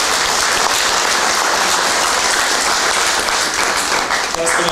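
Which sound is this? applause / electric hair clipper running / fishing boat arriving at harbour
applause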